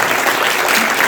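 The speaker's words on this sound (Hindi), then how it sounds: "तालियां बजाएं।" A crowd at an event honoring a gold-medal girl athlete breaks into loud, continuous applause, a dense uniform wash of clapping throughout.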